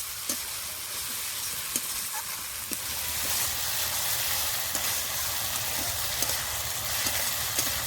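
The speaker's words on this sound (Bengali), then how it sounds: "ধনে পাতাটা দিয়ে কিছুক্ষণ কষে নিতে হবে" Rohu fish curry with ground coriander leaves sautéing in a pan, a dense continuous sizzle with regular scraping stirs and utensil taps, close and steady, no voices.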